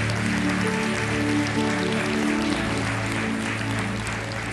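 A church congregation applauds, steady broadband clapping sustained across the whole stretch with a low droning tone underneath, fairly loud and even.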